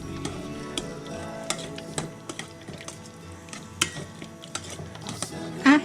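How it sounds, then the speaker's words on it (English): A spoon works through a slow cooker meatball mixture in grape jelly BBQ sauce, giving soft wet stirring with scattered clinks and scrapes against the pot, close and fairly quiet. "I'm going to mix this up."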